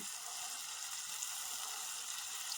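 Gule fish frying in oil over low heat gives a steady, even sizzle with fine crackle throughout, close and unbroken, with no voices.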